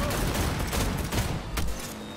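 Gunfire in the video game Cyberpunk 2077, a dense burst of loud overlapping shots and booms filling the short stretch.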